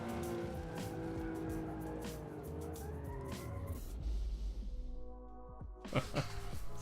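A 2017 Porsche 911 GT3 Cup race car with a 4-litre flat-six, engine note wavering up and down close by, with tire squeal through much of the run and a louder burst near the end.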